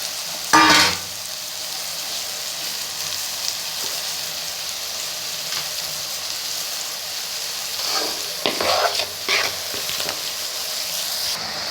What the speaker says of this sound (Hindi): इसमें साथ ही मैं जो सब्ज़ी कटी हुई है वो डाल दूँगी।